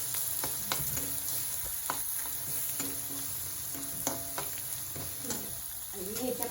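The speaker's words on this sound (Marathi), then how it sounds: "आता हे सर्व मसाले चांगलं भाजून घेते" Spices for Mumbai-style aloo bread pakoda roast in a pan with a steady close sizzle, punctuated by repeated scraping taps of a stirring spoon against the pan.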